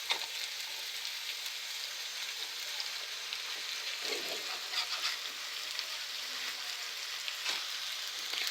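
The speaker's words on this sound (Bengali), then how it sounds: "তেলটা দিয়ে আমি এভাবে নেড়ে চেড়ে মিক্সড করে নেব সবগুলো মশলা এবং আলু, শাক," Spices, potato and taro greens frying in soybean oil while being stirred, a soft continuous sizzle with faint occasional scraping, fairly quiet and steady, no voices.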